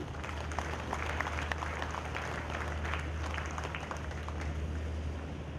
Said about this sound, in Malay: tepukan gemuruh sekali lagi